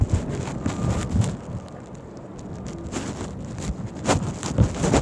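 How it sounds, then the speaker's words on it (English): Wind gusting on a windy day while out riding, a steady rough rumble of air buffeting the microphone, with louder gusts rising and falling throughout. "It'd be a beautiful day if it wasn't so windy"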